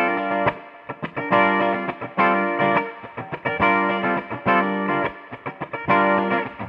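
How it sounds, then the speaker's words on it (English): Handmade custom Stageliner electric guitar played through the bridge pickup with a touch of reverb, loud chopped chords in a bouncy rhythm with short gaps between strums, alone with no talk. "showing you what the bridge pickup sounds like on this one"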